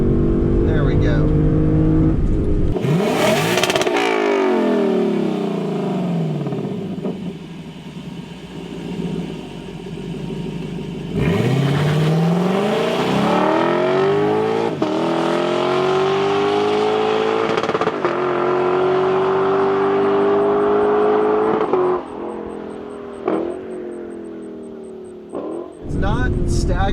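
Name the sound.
Lexus LC500 convertible engine accelerating at wide open throttle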